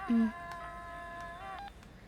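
Mobile phone ringtone in a Tamil film scene, a sustained electronic melodic tone with a brief low buzz at the start, fairly close and steady before it cuts out.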